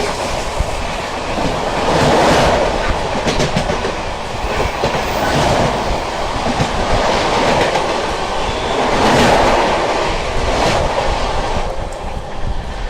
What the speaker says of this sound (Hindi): सामने से आती हुई 15632 गुवाहाटी बाड़मेर एक्सप्रेस आती हुई दोस्तों